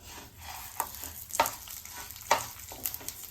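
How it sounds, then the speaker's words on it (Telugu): Sajja millet frying in ghee in a pan, a faint low sizzle broken by a few quick scraping stirs of a spoon. "తర్వాత ఒక 2 స్పూన్లు నెయ్యి వేసి వేయించుకోవాలన్నమాట"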